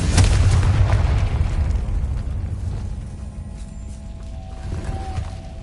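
Confringo blasting spell in Hogwarts Legacy erupts as a loud, deep boom at once, then rumbles and fades slowly over several seconds, with a faint whine near the end.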